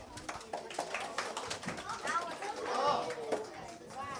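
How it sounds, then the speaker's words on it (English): An audience claps for a young sitarist, Muhammad Sarim, at a winter camp presentation and certificate ceremony; scattered, moderate hand claps run throughout while voices talk over them. "And now please clap for Muhammad Sarim."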